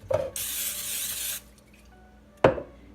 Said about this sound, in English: we are going to just spray down our pans